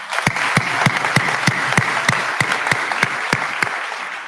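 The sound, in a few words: applause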